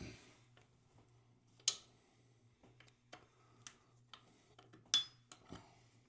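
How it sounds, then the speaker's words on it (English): A 7/16 closed-end wrench loosening the nut on a toilet flange bolt makes sparse, faint metallic clicks and clinks over a low steady hum, with no one talking. "So now we have a 7/16 closed-in wrench. We're going to loosen these up."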